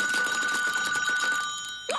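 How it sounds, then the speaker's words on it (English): An old-style telephone bell rings loudly and continuously in a detective's office in the animated series Duckman, then cuts off near the end. "Wait, that's the phone."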